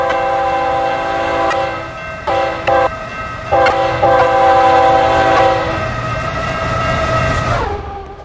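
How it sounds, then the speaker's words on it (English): A Roblox train passes with a loud, sustained multi-tone horn blaring in repeated blasts over a steady rumble of rolling wheels, the horn finally sliding down and fading as the train moves off. "when the train horn is honking"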